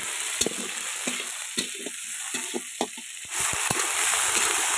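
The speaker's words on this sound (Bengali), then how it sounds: "এর সাথে এবার আলুটা দিয়ে হালকা করে আমরা ভেজে নেব" Potatoes added to onions frying in a pan during village cooking, a steady sizzle with scattered stirring scrapes and knocks that grows louder and denser near the end.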